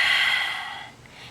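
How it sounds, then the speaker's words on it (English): A long, breathy exhale through the nose during a power vinyasa yoga flow, close and airy, fading gradually over about a second. "breathing out."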